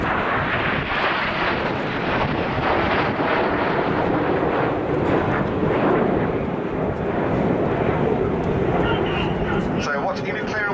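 Red Arrows jets roar steadily through a flying display manoeuvre at RIAT 2011, a loud continuous broadband engine rush with wind buffeting, while a commentator talks over it.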